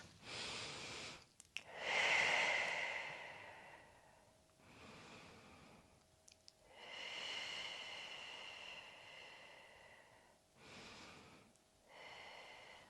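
Slow, deep breathing during a Pilates stretch, with long airy inhales and exhales alternating in a steady rhythm, close to the mic and with no talking.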